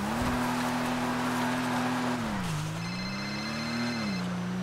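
Car engine in a role-play video game, a smooth steady drone that dips in pitch and rises again as the car shifts and accelerates, heard alone without talk.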